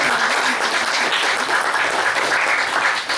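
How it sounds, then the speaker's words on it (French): An audience at a poetry afternoon dedicated to Irving Layton applauds, a full, continuous patter of many hands, fairly loud and steady throughout, with no voices over it. "On l'applaudit, Hugues Hazelton."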